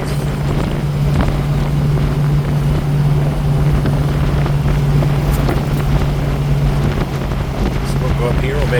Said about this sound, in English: Go through the gears one more time, and that will conclude our time with this test drive.